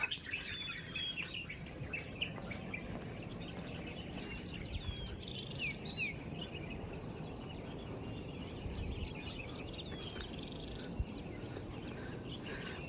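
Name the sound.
peacocks calling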